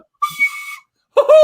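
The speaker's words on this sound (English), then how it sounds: "they're competing in whistles" Two loud, clear whistles close up from people whistling against each other: one steady tone, then a pause, then a second whistle that bends in pitch, with no talking between them.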